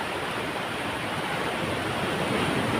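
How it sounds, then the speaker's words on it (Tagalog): Ocean surf during Typhoon Uwan at Baler, Aurora, roars as a dense, continuous wash of breaking waves, loud and steady with no voices. "Nakabot na tayo ng alon."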